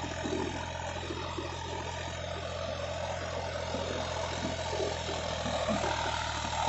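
Steady low engine drone with a continuous mechanical rumble from a Farmtrac 60 tractor driving a 7-foot Sonalika rotavator through its PTO, running without pause at moderate distance.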